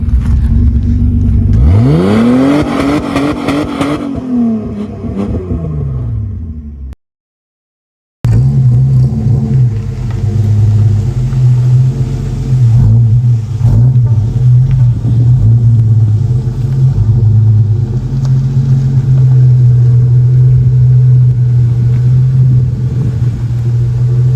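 A Holden VS car engine with the rear section of its exhaust fallen off revs up and falls back, then after a brief gap settles into a loud, raw, rumbling idle close by.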